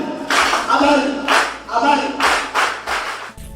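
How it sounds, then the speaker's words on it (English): Audience clapping for a visiting Excellency at a juvenile correctional service centre in Owerri, Nigeria, in uneven rhythmic bursts of a few seconds, fairly close and moderately loud. "Let us give our Excellency in some nice clap."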